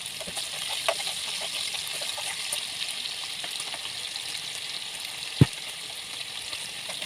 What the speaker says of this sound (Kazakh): Сұйық майымыз қызған кезде үстіне алдымен етті салып, қызарғанша жақсылап қуыратын боламыз